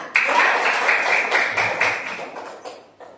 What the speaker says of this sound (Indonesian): Tepuk tangan untuk kelompok visual.